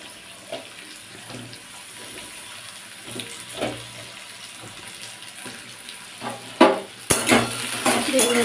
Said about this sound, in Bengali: বেগুনগুলো একটু নাড়াচাড়া করে নিলাম